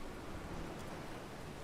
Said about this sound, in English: The crew guide the Defiant through the unending downpour.